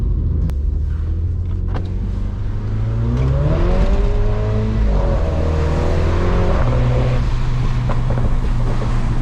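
A Mini JCW with traction control off accelerating on snow, its engine revving up in a steady rising drone, loud and close, with wheels spinning under it.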